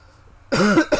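A person coughs after a sip of Pedialyte goes down the wrong way, two harsh, close, loud coughs in quick succession following a moment of quiet.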